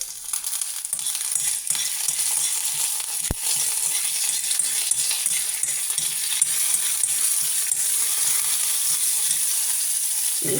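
Mustard seeds with fenugreek and chili spluttering in hot oil for sambar give a steady crackling sizzle with scattered small pops, plus one sharp clink from a utensil partway through, close up and with no voices.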